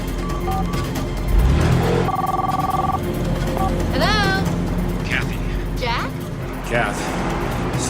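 A 1992-era car phone rings in a movie scene, an electronic trill that repeats briefly. It sits over a low vehicle rumble, with voices and other scene sounds around it.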